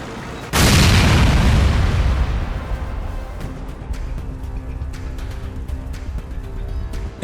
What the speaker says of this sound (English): The vehicle at the rear is struck in the same manner and explodes.